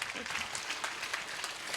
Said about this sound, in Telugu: బిగ్గరగా చప్పట్లు కొడదా అందరూ